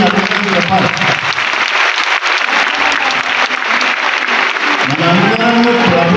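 An audience at a Christmas celebration in a large church in Karunapuram, Warangal bursts into loud, sustained applause, dense clapping filling the hall without a break for about six seconds.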